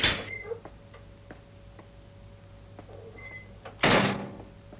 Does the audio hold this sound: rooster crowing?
no